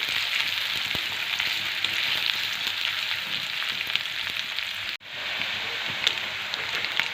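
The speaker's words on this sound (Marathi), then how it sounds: "तो कांदा आपल्याला छान लाल रंगावरती परतून घ्यायचा आहे" Finely chopped onion, a large one, fries in a pan while being stirred, a steady close sizzle that runs throughout with a brief dip near the end.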